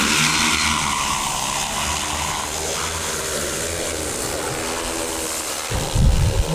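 Agriculture spraying drone in flight, a steady loud motor drone with shifting harmonic tones, continuous and close, with a brief louder burst near the end.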